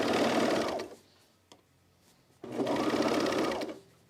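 A serger stitches the seam of a button-down shirt in two rapid, buzzing bursts, each just under a second and a half, with a short quiet gap and a small click between them.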